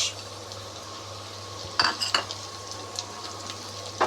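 Shredded cabbage goes into a pan of fried onions: a low steady sizzle, then a few sharp metallic clinks and scrapes of a utensil against the pan, close and without talking.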